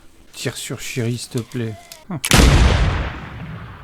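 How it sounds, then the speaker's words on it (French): A single loud gunshot from the TV series Fear the Walking Dead cracks sharply and then rings out in a long decaying echo, following a stretch of people talking. "Ah, tire sur Sherry, s'il te plaît."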